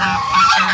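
Geese honking at close range in a farmyard, a dense overlapping chorus of nasal calls filling the short moment without pause.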